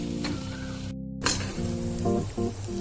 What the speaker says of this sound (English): Make sure you keep stirring this at a very low heat.